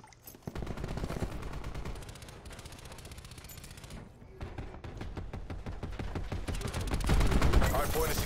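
Gunfire in the Black Ops 4 video game, including a pistol, as rapid, dense shots and bursts over steady loud game noise, growing heavier toward the end.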